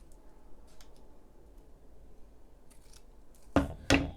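Scissors trimming ribbon for a handmade stamped card, faint quiet handling, then two crisp close snips near the end.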